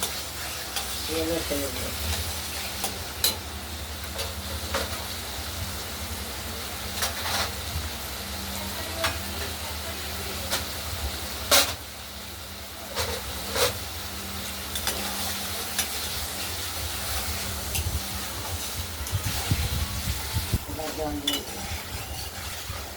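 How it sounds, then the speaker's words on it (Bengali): Spice paste for a katla fish curry sizzles and fries steadily in a pan while being stirred, with intermittent scraping clatter of the spatula over a constant hiss, close and fairly loud, no talking. "মশলাটা আমরা খুব ভালো করে কষিয়ে নেব, না হলে কাঁচা মশলার গন্ধটা পাওয়া যাবে"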